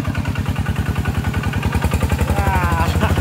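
A walking tractor's single-cylinder engine chugs in a fast, even thumping rhythm as it drives through a flooded rice field, loud and close, with a brief rising rev near the end.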